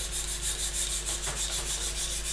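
Craft knife shaving thin strips from a piece of wood like a plane for a model bookend, a steady close rubbing scrape that repeats in short regular strokes.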